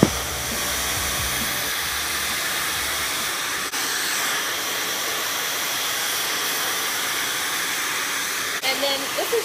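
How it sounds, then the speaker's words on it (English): Hair dryer blowing steadily at close range during a salon beach-wave styling session, a continuous loud whooshing roar that softens product through the hair, briefly dipping near the start and wavering at the end. "this is just a quick blow dry just to soften the product into the hair"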